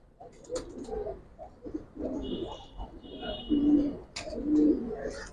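Silver Giribaz and colored pigeons coo softly in low, throaty bursts, close by, with a few faint chirps and quiet talk mixed in.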